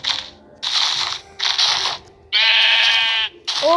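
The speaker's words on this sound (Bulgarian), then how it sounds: "Овца има!" Sheep bleating in the video game Minecraft: several separate bleats, some with a clear harmonic wavering tone, spaced across the moment and heard alone at moderate loudness.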